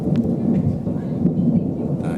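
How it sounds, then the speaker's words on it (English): Thunder rolls through a thunderstorm, a deep, sustained rumble that surges and fades in waves over a rain-like hiss, loud and enveloping. "That is the sound of thunder."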